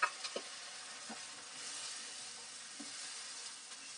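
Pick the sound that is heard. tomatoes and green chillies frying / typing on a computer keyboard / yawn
tomatoes and green chillies frying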